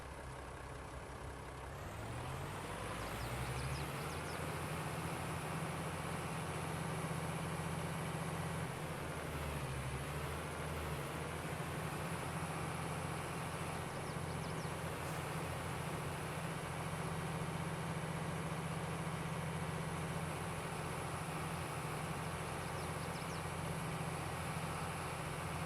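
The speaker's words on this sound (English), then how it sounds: "And we're going to take the tractor with us." A tractor engine in Farming Simulator 22 runs steadily at a low, constant drone. It starts up with a rising rumble in the first few seconds, then holds a continuous hum with a slight pitch shift partway through.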